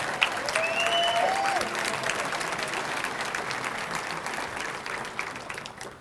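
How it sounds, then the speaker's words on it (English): An audience at the 2020 Coeur d'Alene State of the City Address breaks into sustained, dense applause that slowly tapers off, with a brief whistle near the start. "Let's give Sue a round of applause."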